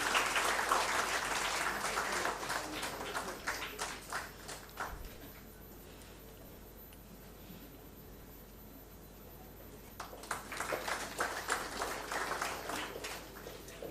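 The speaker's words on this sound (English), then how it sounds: "Can we have a round of applause," An audience at an agribusiness stage event gives a round of applause, moderately faint clapping that dies away into near silence for several seconds before a second burst of clapping returns.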